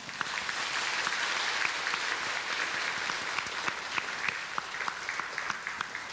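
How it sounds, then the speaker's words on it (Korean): Church congregation at a Sunday service giving warm welcoming applause, a dense, even round of many hands clapping that continues steadily throughout. "우리 인사하실 때 뜨거운 박수로 한번 환영해 주세요"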